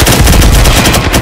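Loud, rapid automatic gunfire from Firewall Zero Hour, a tactical shooter video game, rattling in continuous close bursts that fill the whole short moment without pause.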